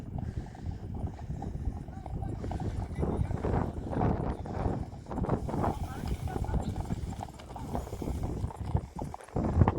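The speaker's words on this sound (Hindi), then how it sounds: "और भी सामने से घोड़े आ रहे" Horses' hooves clip-clop steadily during race practice, several horses approaching from ahead, with an occasional whinny; someone talks over the continuous hoofbeats throughout.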